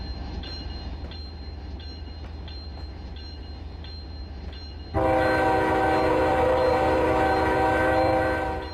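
Train rolling along the rails in a model railroad simulation game on a CSX-BNSF interchange, a steady rumble that is suddenly joined by a loud, sustained multi-tone horn blast.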